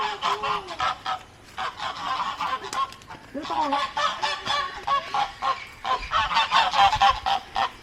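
Loud, repeated goose honks in rapid bursts close by, with several birds calling over one another almost continuously.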